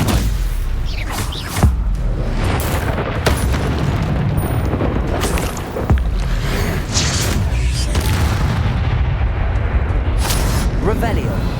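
Spell blasts from Bombarda and Incendio boom and crackle repeatedly in Hogwarts Legacy combat, dense, loud and continuous with rapid thuds and bursts layered over each other.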